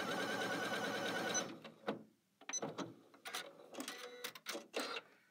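Janome Skyline S7 sewing machine running a basting stitch, a fast steady mechanical whir for over a second, then stopping, followed by scattered clicks, taps and handling noises up close.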